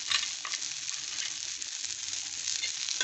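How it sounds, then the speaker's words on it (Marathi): Dried grated coconut sautés in hot oil with browned onions in a pan, a steady soft sizzle and crackle with faint stirring, close and continuous throughout. "आता त्याच्यात आपण सुकं खोबरं परतून घेऊया।"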